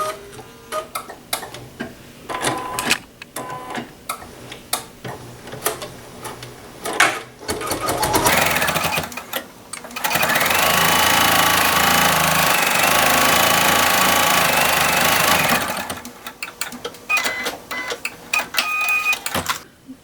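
An embroidery machine stitches holly designs in the hoop with a busy run of sharp clicks and ticks, broken mid-way by a stretch of sustained hissing whir, then more clicking.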